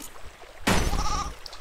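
A goat in the video game There is No Game lets out a single loud, close bleat that lasts about half a second, with no voices around it.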